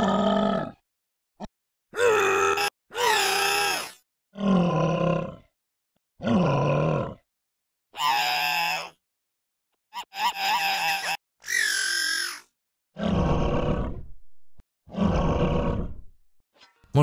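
Processed monster voice sound effect, pitch-shifted growls and roars in about a dozen separate bursts with short gaps between them, loud and close, no talking.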